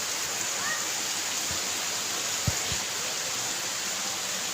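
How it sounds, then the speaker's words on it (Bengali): Rain falls in a steady, dense hiss at a house, with a couple of faint low knocks nearby and no voices heard. "এই দেখো, ওই দেখো পড়ছে বৃষ্টি।"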